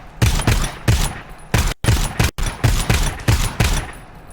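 Automatic weapon fire in the co-op shooter game GTFO, a loud, close series of rapid bursts with short gaps between them, and no talking over it.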